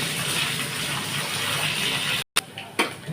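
Cut potatoes sizzling in hot oil in a pan with panch phoron, a steady dense frying hiss that breaks off briefly before a few short clatters.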